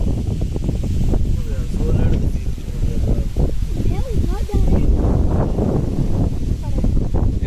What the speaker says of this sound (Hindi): देखो भाई साहब क्या हवा चल रही है